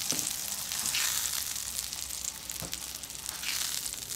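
Sausage fries in a pan with a constant quiet hiss and sizzle, broken by a few soft crackles and utensil scrapes, no voices.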